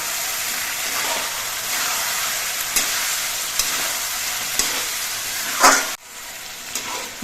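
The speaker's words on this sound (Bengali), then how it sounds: "মাংসগুলো কিন্তু কষিয়ে নিতে হবে" Mutton pieces with papaya fry in a wok, a loud continuous sizzle broken by scraping stir strokes at intervals, with a brief dip near the end.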